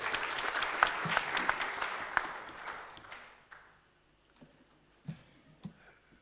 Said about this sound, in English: A round of applause for Prof. Sodi.